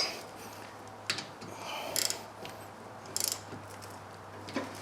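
Ratchet snugging rear brake caliper bolts on a 2011 Toyota Sienna, a few short bursts of close clicking separated by quiet pauses.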